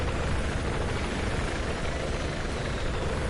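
A helicopter in the Battlefield 4 video game roars continuously, a dense, loud rotor and engine wash filling the whole stretch, steady and close, with no talk over it.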